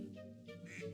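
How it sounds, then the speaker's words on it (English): Cartoonish ducks quack in the puzzle game Blue Toad Murder Files, a few short nasal calls in quick succession at low, even volume. "Ducks!"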